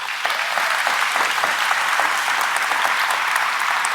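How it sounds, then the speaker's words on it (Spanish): An audience applauds at a Catholic gathering, giving a dense, steady wash of clapping that carries evenly for the full four seconds with no voices over it. "démosle un fuerte aplauso"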